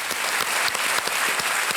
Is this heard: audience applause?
yes